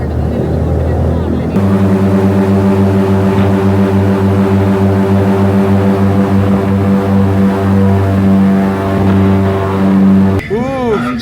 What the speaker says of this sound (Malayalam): ബോട്ട് സ്പീഡ് കൂട്ടാൻ പോകണ.